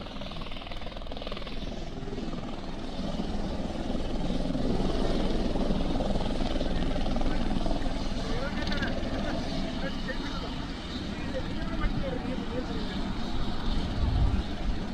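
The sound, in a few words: helicopter landing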